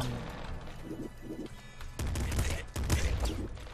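Machine gun fire in the video game Nuclear Throne, dense bursts of rapid shots mixed with crashing impacts, growing louder and busier in the second half.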